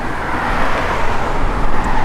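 A 1987 Chevrolet Monte Carlo SS on Ridler wheels idles steadily at close range, a continuous broadband engine rumble with no talk over it.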